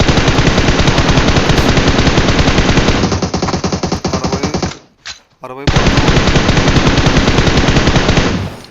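Rapid automatic gunfire in the battle-royale game PUBG Mobile rattles in long, loud bursts, cut by a brief near-silent gap before firing resumes, with a player speaking over it.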